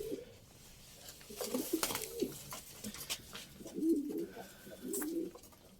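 Pigeons coo softly nearby in a few low, rolling calls, with faint rustling and background noise between them.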